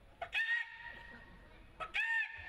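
Two short chicken calls sound about a second and a half apart, nasal and slightly drawn out, faint against quiet background.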